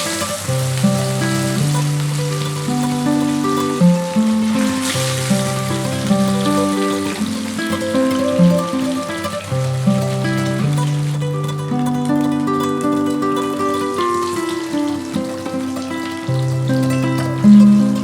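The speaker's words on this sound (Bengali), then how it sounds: "তেলটা ভালো মতন গরম হলে তার মধ্যে একে একে মাছের পিসগুলো দিয়ে দেব।" Large pieces of katla fish fry in hot mustard oil, a soft continuous sizzle and spatter sitting beneath louder melodic background music for the whole stretch.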